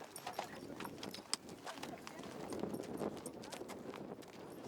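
Horse hooves clip-clop at a walking pace on the ground during calf sorting on a Cévennes farm, a steady run of faint, fairly distant strikes under outdoor background noise.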